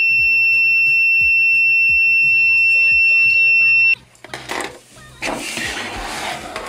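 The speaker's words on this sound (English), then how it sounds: "I will measure the current that flows through the circuit while the buzzer is making a sound." A buzzer in a soil moisture monitoring circuit built without a microcontroller sounds a steady, high, piercing two-tone whine for about four seconds over soft rhythmic low thumps, then cuts off into rougher broadband noise.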